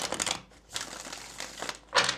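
Tarot cards being shuffled by hand, giving short bursts of crisp papery riffling and crinkling with brief pauses between them and a louder final burst.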